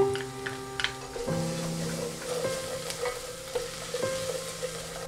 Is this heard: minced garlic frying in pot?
yes